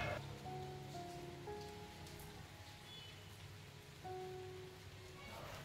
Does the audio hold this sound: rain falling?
yes